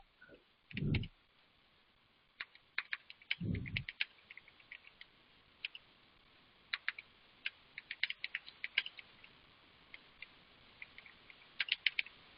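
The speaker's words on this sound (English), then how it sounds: "let me just type it down here" Typing on a computer keyboard: scattered, close key clicks in short bursts, quiet overall, with two brief low thumps near the start and no talking.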